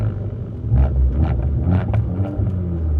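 Fiat car engine rumbling and blipping up during a heel-toe rev-match downshift, a low, close, continuous drone that swells in short rises, heard from inside the car with some wind buffeting.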